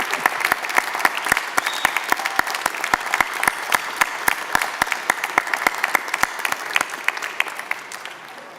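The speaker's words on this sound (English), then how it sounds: "give them a loud, well-deserved round of applause to say thank you" A crowd at a graduation ceremony gives a sustained round of applause, dense, steady clapping with sharp individual claps standing out, continuing evenly throughout before slightly fading toward the end.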